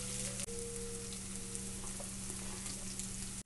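Sliced onion and garlic fry in a pan for a black lentil curry, a soft, steady sizzling hiss at close range with a few faint clicks and no talking.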